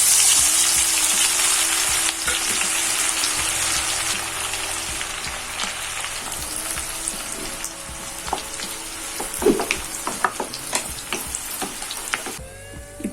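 Sliced onions with bay leaves, cinnamon, marathi moggu, cardamom and cloves sizzle in hot oil for a parotta fish biryani, a loud continuous frying hiss with occasional stirring clinks and scrapes toward the end.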